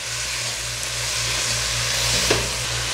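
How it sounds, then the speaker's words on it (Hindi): Mutton with fat fried with salt in a pot, a loud steady sizzle running throughout with a brief stir or scrape near the end, close and without talk. "अब इसे अच्छे से भूनेंगे।"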